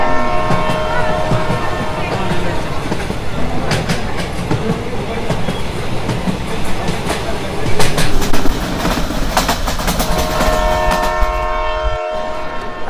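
Train 12329 from Sealdah to Anand Vihar standing at Bardhaman station, with a steady, loud platform and carriage rumble, horn-like tonal bands and occasional metallic clanks throughout, briefly dropping near the end.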